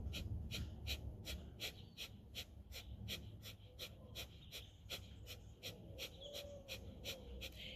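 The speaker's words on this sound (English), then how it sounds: "exhale, Breath of Fire." Rapid, rhythmic Breath of Fire yoga breathing, about two sharp nasal exhalations per second sustained evenly throughout, close but fairly faint.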